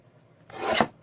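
A single brief rasping swipe as paper scrap is trimmed for crafting, close and fairly loud, rising and then cutting off after a quiet moment.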